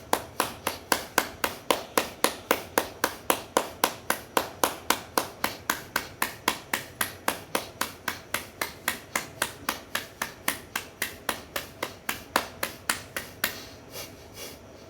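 Rhythmic hand clapping during a bhastrika breathing exercise, about three sharp claps per second repeated steadily and close for the whole stretch, slowing and fading at the end.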